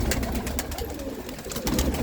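Pigeons kept by a village sarpanch coo and rustle in a loft, a soft continuous chorus of low burbling calls close by with steady background noise and no talking.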